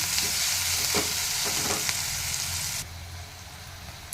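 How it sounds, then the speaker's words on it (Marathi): Onions frying in oil in a pan, a steady close sizzle with a few scraping stirs of a spoon, and no talking. "कांदा मऊ पर्यापर्यंत मऊ पर्यापर्यंत हे करायचं हलवत राहायचं"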